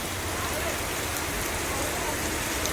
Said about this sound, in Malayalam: ഭയങ്കര മഴയാണ് ഇവിടെ